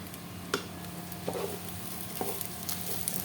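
Rice and spices fry in a pan for an iftar meal, a soft continuous sizzle punctuated by several scraping stirs and light knocks of the spoon against the pan.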